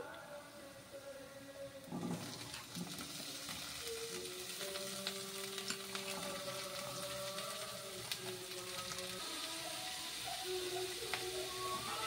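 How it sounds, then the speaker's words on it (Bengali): Chopped vegetables frying in a pan over low heat with onion, ginger and garlic, a steady sizzle and hiss with occasional stirring clinks, continuous and fairly quiet throughout. "এই সবজিটা যতক্ষণ ভাজা হবে, হালকা আঁচে ভাজা হোক"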